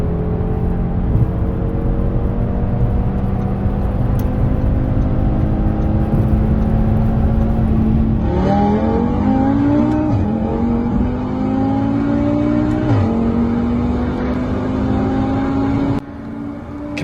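An Audi RS3 engine revs hard and accelerates, its loud, steady drone climbing through several gear shifts with rising pitch sweeps, heard up close and without talk.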